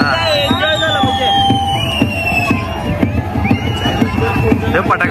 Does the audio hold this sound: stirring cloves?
no